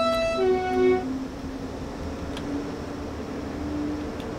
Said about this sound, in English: Horn sounds the same.